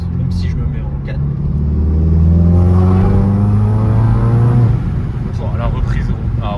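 Seat Leon Cupra accelerating hard, its engine note climbing steadily in pitch as the turbo builds boost, loud and close from inside the cabin, with a shift near the end and occasional voices over it.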